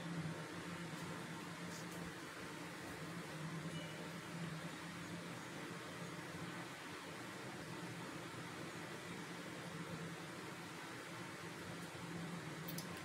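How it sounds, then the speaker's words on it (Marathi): Kurdaya crisps frying in hot oil for a festive Akshaya Tritiya thali: a steady, faint bubbling hiss with a constant fan-like drone, unbroken and without voices. "आता कुरड्या तळून घ्यायच्यात"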